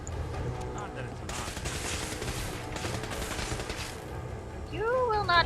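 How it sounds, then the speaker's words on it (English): Blue laser gun fire in the modded video game Fallout 4, a steady run of crackling energy shots lasting several seconds, with a voice-like warble rising near the end. "You will not fire your blue laser gun at me, sir."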